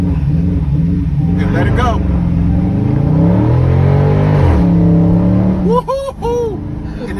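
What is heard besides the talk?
Dodge Scat Pack widebody accelerating in launch control mode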